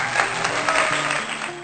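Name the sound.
round of applause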